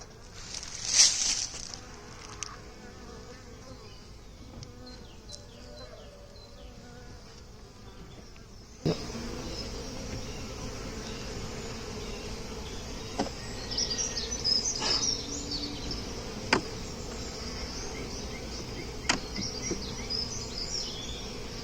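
Honeybees swarm busily around an open hive during a late-winter inspection on a farm, making a steady, close buzzing drone with scattered louder passes of individual bees and no voices.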